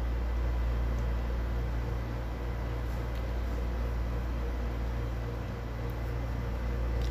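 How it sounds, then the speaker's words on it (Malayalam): A mixer grinder whirs steadily, grinding whole spice masala for a Malabar-style fish biryani, a loud continuous motor drone that holds throughout with no talk. "ഈ മസാല ആദ്യം അങ്ങോട്ട് നന്നായിട്ട് പൊടിച്ചെടുക്കാം"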